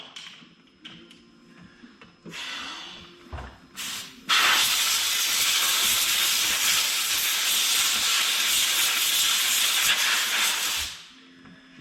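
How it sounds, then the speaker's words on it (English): An air compressor nozzle blows out Echo CS 3400 chainsaw parts, a few short hissing bursts followed by a long, loud, continuous blast of air that cuts off sharply near the end. "I usually blow everything out with the air compressor"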